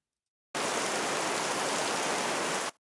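A layer of heavy rain used in Dune-inspired music starts abruptly and runs as a dense, even hiss for about two seconds before cutting off cleanly.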